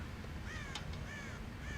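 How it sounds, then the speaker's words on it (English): Crows caw in the Western game Red Dead Redemption at a farm silo, two or three harsh rasping calls close by over a steady low outdoor hum. "God damn crows!"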